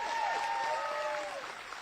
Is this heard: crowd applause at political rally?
yes